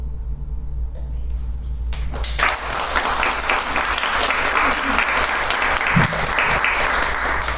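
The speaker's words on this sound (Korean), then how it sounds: "박수를 받을 것까지는 아닌 것 같긴 한데 감사합니다" Audience applause fills a comedy show stage, a dense steady wash of many hands clapping, loud and sustained throughout after a brief quieter start.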